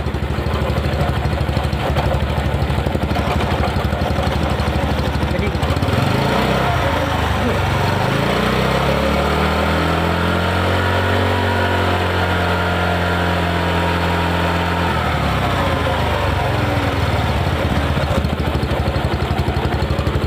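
A motorbike engine drones loudly and steadily, spinning a 12-volt motor as a generator, its pitch climbing and falling as it revs up and then settles back.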